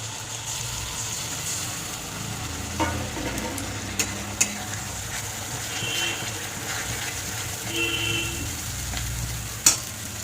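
Ginger, garlic, onion and tomato masala frying in a pan for a koi fish curry, a steady close sizzle with intermittent spatula scrapes and a few sharp clinks of stirring, no voices.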